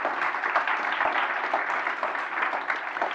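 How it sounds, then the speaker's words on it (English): Audience applause at a youth work academy opening session, a dense steady wash of many hands clapping throughout, fairly loud and close with no voices over it. "So big applause for all facilitators there."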